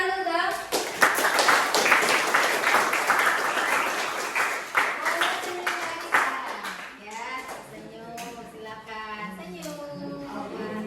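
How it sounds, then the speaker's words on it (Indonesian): Students applaud together in a classroom, a dense burst of clapping that swells early and then thins out, with voices chattering and calling out over it near the end. "Beri tepuk tangan dong."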